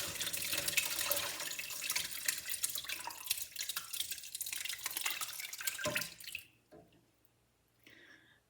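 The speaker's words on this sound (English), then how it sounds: "splash fat everywhere." Rendered sheep fat poured from a crock pot, a loud continuous liquid splashing and pattering that runs for several seconds, then stops abruptly and leaves near silence with a few faint drips.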